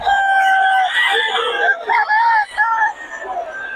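Young stag roosters for sale at a poultry market in Bocaue crow loudly and close by, in overlapping drawn-out calls with a few clucks, while people talk over them.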